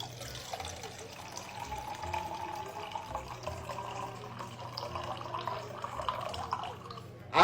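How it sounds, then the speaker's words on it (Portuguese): Water is poured steadily into a container, a continuous close splashing and trickling that runs without a break for several seconds and rises in loudness right at the end. "é possível diferenciar se a água está quente ou gelada apenas pelo som"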